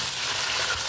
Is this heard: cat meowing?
no